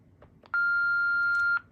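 A Panasonic KX-TCM422 cordless phone handset gives a short chirp, then a single loud steady electronic beep lasting about a second at power-on, close and clear against a quiet background.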